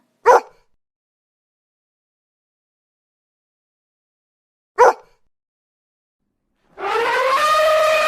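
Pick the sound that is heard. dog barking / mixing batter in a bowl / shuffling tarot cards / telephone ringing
dog barking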